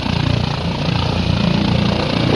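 A helicopter that has begun emitting smoke shortly after takeoff, heard as a steady, loud rotor and engine drone that fills the whole moment without pause.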